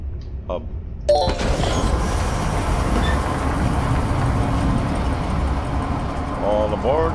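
A train rumbling in the horror video game Zoochosis, a sustained low mechanical roar that starts abruptly and keeps going at steady loudness, with brief tonal sounds at the start and end.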